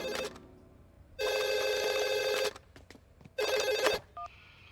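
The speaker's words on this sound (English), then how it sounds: "Scary Godmother, can I use your telephone?" An animated-film telephone gives two loud electronic ring bursts separated by a short quiet gap, close and clear, with no talking.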